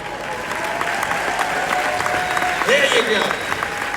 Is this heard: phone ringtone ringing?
no